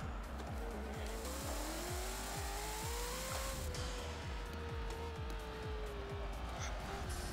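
Race car engine in Forza Motorsport 7, a loud, high-powered drone with rapid, repeating gear-shift pulses and a rising then falling pitch, with sustained tire squeal throughout.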